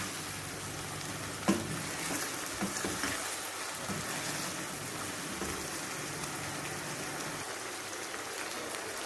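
Mutton keema fries with whole garam masala in oil, giving a steady soft sizzle with occasional faint stirring scrapes and one brief knock early on.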